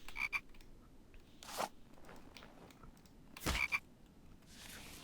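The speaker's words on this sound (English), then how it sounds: "Grab a frog on the way." A frog croaks twice in a video game, each a short, fairly loud burst standing out over a quiet, faintly crackling background, with no talking.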